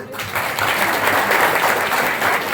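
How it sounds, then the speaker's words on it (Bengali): Strong, sustained applause from an audience gathered at a rural police community event in Hooghly, many people clapping steadily and evenly throughout. "তাদের প্রত্যেকের জন্য খুব জোরে একটা হাততালি"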